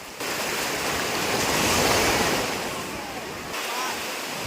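Sea waves surge and break steadily on the beach at Thiruchendur, a continuous loud wash of surf with wind noise that swells in the middle and eases slightly toward the end.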